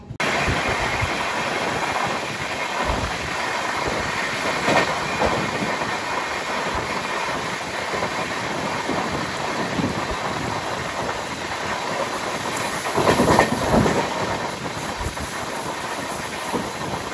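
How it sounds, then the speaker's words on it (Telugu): Inside a moving intercity passenger train in India, a steady roar of wheels and carriage rumble fills the whole stretch, swelling briefly as another train passes alongside. "ఇప్పుడు మన ట్రైన్ ఒక ట్రైన్ తో క్రాస్ ఓవర్ అయితే అవుద్ది."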